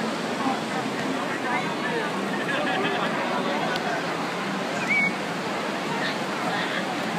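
Busy beach at Praia Grande, São Paulo, with a steady broadband wash of surf blended with a murmuring crowd, continuous and moderately loud throughout.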